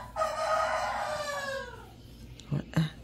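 A rooster crows once, a loud drawn-out call that trails off, followed by two short clucks close by.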